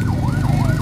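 An ambulance siren wails loudly up and down nearby, over a low rumble of traffic jammed on a badly damaged road at Batu Jomba.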